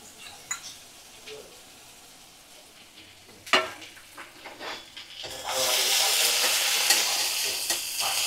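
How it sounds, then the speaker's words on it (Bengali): Chopped onion and green chillies frying in a pan: quiet clinks and stirring at first, then a sudden loud sizzle that holds steady as the food hits the hot oil. "তো পেঁয়াজ আর কিছু কাঁচা লঙ্কা একটু ভাজা করে নেব।"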